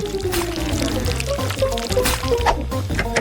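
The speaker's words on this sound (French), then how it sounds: "Je verse le miel dans un verre." Honey pouring into a glass during a strawberry dessert preparation, a continuous thick liquid stream heard close up for a few seconds against steady background music.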